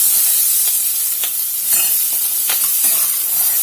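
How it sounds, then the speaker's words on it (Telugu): Capsicum and onions fry in oil in a pan, making a loud, continuous close sizzle with a few soft stirring scrapes. "వీటిని కూడా మనం కొంచెం వేపుకుందాము."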